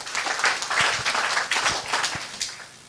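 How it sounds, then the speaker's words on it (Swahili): A church congregation applauds an apostle with a dense burst of hand-clapping, loud and close, lasting about three seconds with no talk over it. "Haya, tupigie apostle makofi mazuri."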